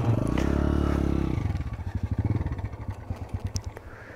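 A Bajaj motorcycle engine runs close and loud, first with a steady droning tone, then breaking into a rapid pulsing putter as it idles or labours along, with some rattling clatter and no talk.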